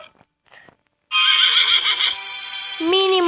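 A horse neighs in the Photo Finish horse racing video game, a loud drawn-out whinny that rises and then falls in pitch, following a few faint clicks.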